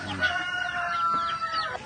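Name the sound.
chickens clucking at feeding time on a farm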